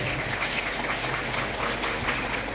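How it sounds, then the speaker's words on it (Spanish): A church congregation claps during a preacher's sermon, broad steady applause from a large room, somewhat distant and even, with a low rumble underneath and no speech over it. "Si usted puede aplaudir, aplauda."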